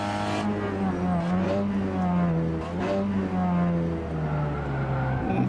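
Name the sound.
Peugeot 308 RCZ racing cup car accelerating on track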